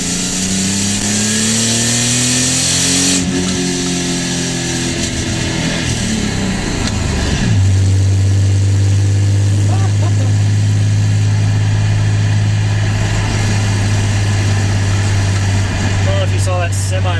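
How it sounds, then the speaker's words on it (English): Car traffic idling at a red light around 8 o'clock at night, a steady low engine rumble close by with some revving and passing vehicles earlier, continuing throughout. "There's also the traffic here."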